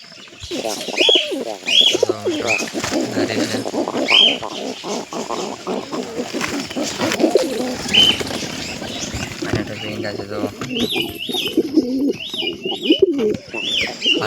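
Pigeons at a nest holding eggs coo in soft, throaty bursts. Occasional wing flaps and rustling come between the coos, all heard up close.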